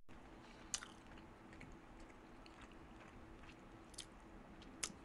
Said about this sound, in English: And the pig begins his chewing.